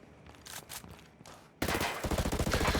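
Gunfire in Ghost Recon Frontline starts as scattered nearby shots, then bursts into loud, rapid automatic fire with a steady rattling rhythm.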